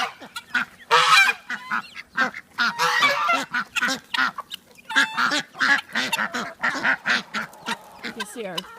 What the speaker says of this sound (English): There's our big guinea right there, and then we have a ton of tiny little guineas.